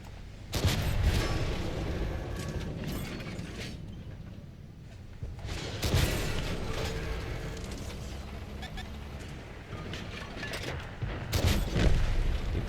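Heavy booms from a tank's main gun in a video game, the E 65 Zwilling, go off several times a few seconds apart, each with a rumbling tail under steady combat noise, while someone talks.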